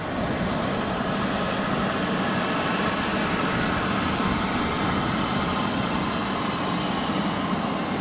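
Boeing 777X aircraft engines roar at Boeing Field, King County International Airport, as a steady, loud, broadband rushing like a waterfall, unbroken throughout.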